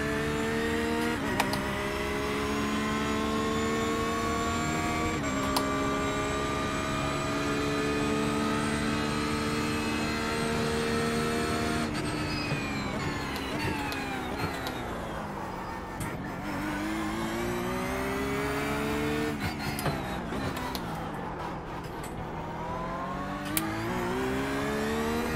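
A GT3 race car in a racing game set at Long Beach screams under full throttle, its engine note climbing steadily through gears with brief dips at each shift, loud and continuous.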